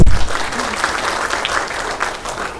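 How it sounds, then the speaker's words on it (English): A festival audience claps in a short, dense burst of applause, steady and close, fading slightly at the end. "Big round of applause for them both."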